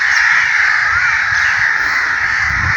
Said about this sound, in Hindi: कव्वे, एक काले कव्वे।